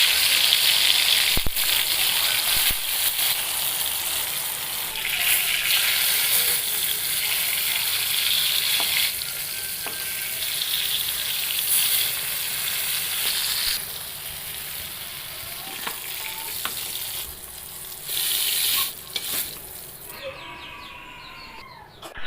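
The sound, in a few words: eggplant slices frying in oil in a wok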